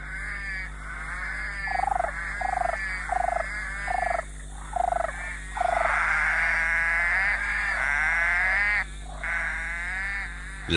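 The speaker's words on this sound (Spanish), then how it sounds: "la rana verde de ojos rojos gasta una cantidad enorme de energía intentando atraer pareja para aparearse" Red-eyed tree frog calling in tropical rainforest, a loud series of short repeated croaking chirps followed by longer sustained trilling calls, close and prominent over a steady background hum.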